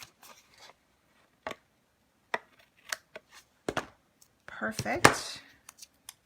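Scissors snip and trim scrap paper in a series of short, sharp cuts with pauses between them, close and crisp, followed by a brief rustle of the paper; a voice speaks a single word near the end.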